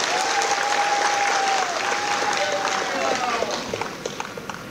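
A large rally crowd in Rayagada, Odisha, gives loud, sustained applause for the Chief Minister's speech, a dense wash of clapping that fades slightly toward the end, with a faint steady tone underneath.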